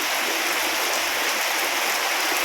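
Rain comes down as an even, dense hiss with no gaps, heard close and fairly loud across the short stretch with no voices.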